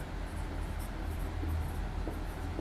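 Chalk or marker writing on a board during a physics lesson, a steady close scratching texture running continuously with no speech.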